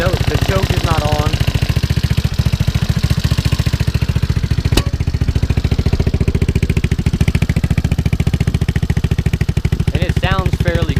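A scooter fitted with a 171cc big bore kit and 28mm slide carburetor idles steadily close by, a loud continuous rhythmic putter that runs throughout with a brief sharp click partway through.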